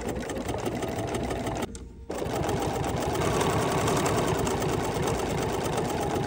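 A sewing machine runs steadily, stitching the last few stitches of a Tula fabric tray. Its rapid, even needle chatter stops briefly partway through, then resumes at full speed.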